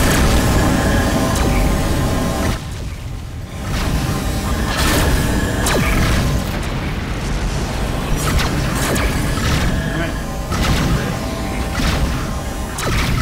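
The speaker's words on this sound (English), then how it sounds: "those pulse cannons just pulsing away like laser recharging no matter what" Pulse cannons fire steadily in a space combat scene from the game Rebel Galaxy, a dense run of repeated energy-weapon bursts and booms over a constant loud mix of engine hum and effects, with a brief lull near the start.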